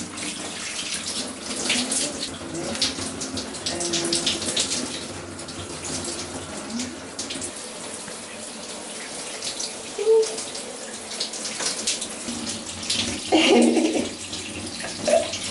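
Tap water runs steadily and fairly close while a baby is showered in a home bathroom, a continuous hiss with brief splashy shifts in flow near the end.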